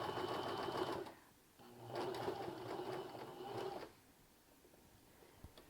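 Sewing machine stitching a bias tape neckline through a thick fabric section, running in two steady close-up bursts separated by a short pause, then falling quiet.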